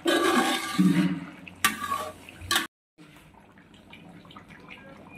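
Water is poured into a pot of rice for pulao in a loud close gush, with a couple of sharp splashes, then cut off abruptly, leaving a low background murmur.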